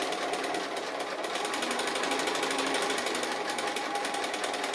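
A sewing machine stitching appliqué on fabric runs continuously at a fast, even pace, its rapid needle clatter close and steady throughout with no pauses.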